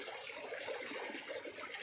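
River water flows steadily through an old river channel, a continuous, even rush of broadband noise with no break in loudness throughout.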